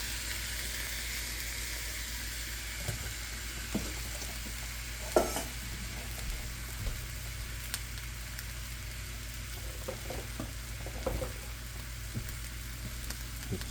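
Shrimp and onions frying in a little olive oil, a steady bright sizzle that carries evenly throughout, with occasional soft clinks and stirs from the pan, close and moderately quiet.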